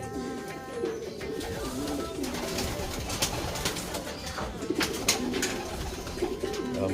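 Soft, repeated cooing of a homing pigeon nearby, with light rustling and faint background noise.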